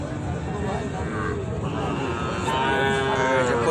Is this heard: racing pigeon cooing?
no